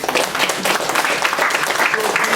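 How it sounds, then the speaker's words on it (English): An audience at a biotechnology department industry-relations event applauds, a dense, continuous wash of clapping that stays loud and even across the short stretch. "So, you should clap for yourselves."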